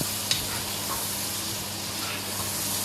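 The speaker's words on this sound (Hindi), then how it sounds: "देखिए हमारी सब्जियां अच्छे से फ्राई हो रही हैं" Vegetables including green and yellow bell pepper frying in a pan for a noodle dish, a steady close sizzle and hiss with a couple of light stirring clicks.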